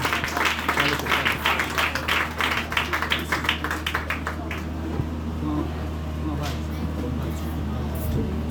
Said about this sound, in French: Nous applaudissons ce bon Dieu dans la vie